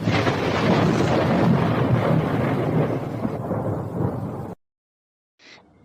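A heavy outdoor rain and thunderstorm roars as a dense, loud wash of rain noise with low rumbling, fairly close and steady for several seconds, then cuts off abruptly.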